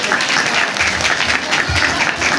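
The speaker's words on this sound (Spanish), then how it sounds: "Fuerte el aplauso para mi grupo" Loud, dense audience applause for a group at a magazine launch, steady crowd clapping filling the whole moment.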